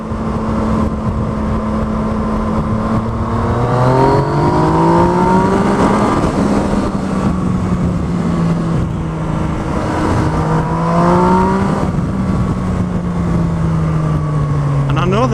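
A Yamaha MT-09 motorcycle engine accelerates hard through the gears, its pitch climbing in repeated sweeps with drops at each shift, loud and close from the rider's position.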